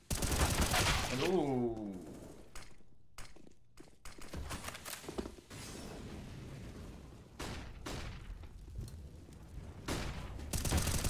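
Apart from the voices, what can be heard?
gunshots in a Counter-Strike esports match, from a video game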